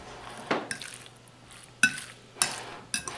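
Seasoned chicken thighs, dusted with onion powder, salt and pepper, are mixed in a bowl, with a few sharp clinks of utensil against the bowl and soft wet stirring, close and sparse.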